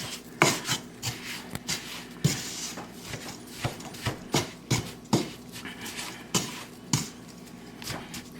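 Maple sugar is stirred in a pot, producing quiet, rhythmic scraping strokes that repeat roughly twice a second with brief gritty rasps between them.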